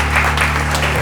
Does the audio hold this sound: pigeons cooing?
no